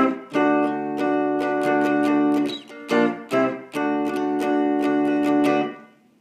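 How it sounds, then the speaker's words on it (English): An electric guitar played through a single pickup rings out loud and close in a series of sustained strummed chords with bright harmonics, separated by short choppy stops and restrikes. "So if I use this pickup, it sounds like this."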